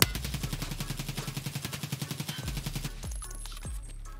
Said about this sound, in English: One single shot, and then we're gonna go straight into full auto.